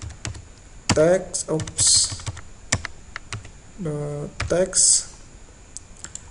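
Keystrokes on a computer keyboard while entering int.parse code, sharp clicks scattered through the clip, some in quick clusters, under a person's close explanatory speech.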